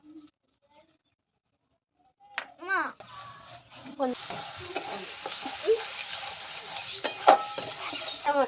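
Onions frying in a pan as spices go in: quiet at first, then a steady sizzle with stirring scrapes and clinks builds up, while a voice babbles nearby.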